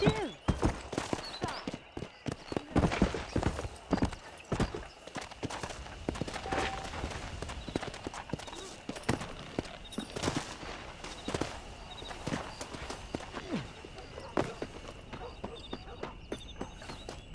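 Horse hooves clop and thud in the video game Red Dead Redemption, a run of irregular, sharp hoof strikes at a brisk pace with scattered louder hits, mixed with game ambience and a voice speaking over it.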